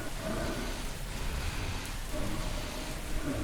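Steady rainfall in the Cthulhu adventure game Gibbous, a soft, even hiss of drops on surfaces with faint low rumble underneath, continuous and fairly quiet throughout, no voices.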